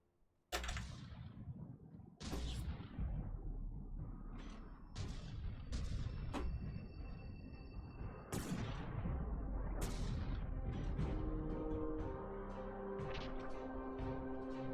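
Turret guns firing in the naval battle game From the Depths, from a damaged turret that keeps shooting, land as a series of loud, booming shots spaced a few seconds apart, each trailing a long rumbling decay, with clatter and tones after.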